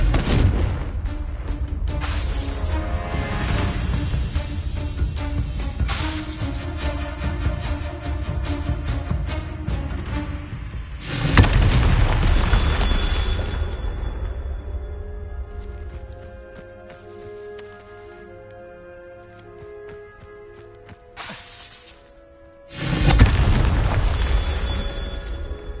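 Fiery Confringo spell blasts in the Hogwarts Legacy video game come as loud, booming explosions in several heavy bursts, each fading into a rumbling tail with musical score underneath.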